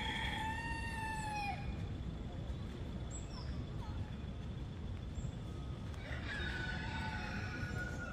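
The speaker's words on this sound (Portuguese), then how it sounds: "Tem muitas galinhas aqui," A rooster crows among many chickens and ducks by a lake in the Palácio de Cristal gardens in Porto: one crow at the start and another near the end, over steady outdoor background noise.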